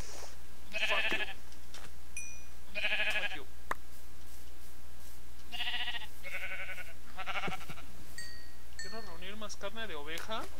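Bleats from Minecraft sheep in a forest-and-beach game world come in several short, nasal calls spread across the stretch, with game sound effects and rippling tones around them.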